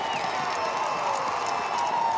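Stadium crowd at a Division II college football semifinal, Colorado School of Mines vs. Kutztown, roaring steadily after a big kickoff return, a dense, sustained wash of cheering with no clear breaks.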